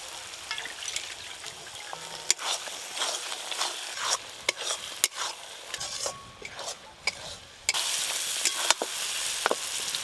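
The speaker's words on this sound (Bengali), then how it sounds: "মশলাটা ভালো করে কষে নিয়েছি" Spice paste for mutton curry sizzles and fries in a pan while being stirred, with scrapes and sharp clinks of the spoon against the pan, and the frying grows louder and fuller toward the end.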